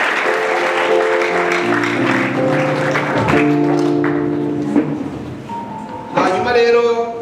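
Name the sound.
applause at a church wedding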